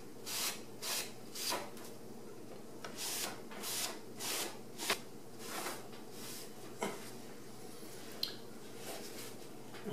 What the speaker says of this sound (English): So let me wipe off the excess here.